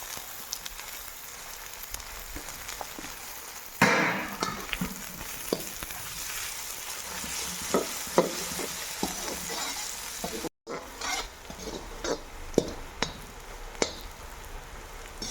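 Mixed vegetables with onion and ginger fry in a tadka for sabji, a constant crackling sizzle like light rain punctuated by stirring clatters and taps, close and continuous, with a brief dropout near the end.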